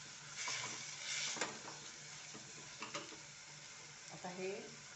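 Sprouted moong tipped into a hot pan and stirred, with a steady sizzle and frying hiss broken by scraping stirs and soft clinks, close and fairly loud, alone.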